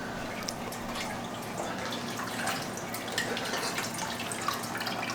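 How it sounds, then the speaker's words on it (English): Water draining and dripping from a raw turkey, a close, continuous trickle with scattered small drips and splashes. "I got to drain the water out of this."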